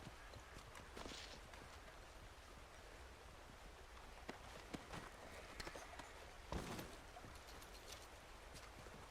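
Horse hooves clip-clop steadily in Red Dead Redemption 2, faint and distant under a soft, noisy background with no clear talk.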